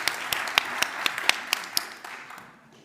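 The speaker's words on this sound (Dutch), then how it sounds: "Misschien moeten we een applaus geven." Applause at a science event in Leiden, a scattering of claps from a modest audience, moderately loud and close, thinning out and fading over the last half second.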